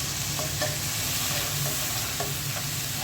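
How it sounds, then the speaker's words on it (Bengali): Spice paste, loosened with a little water, is stirred and fried in a pan for a fish curry with green banana, giving a steady close sizzle broken by several soft scraping strokes. "মশলাটা কষিয়ে নিতে হবে।"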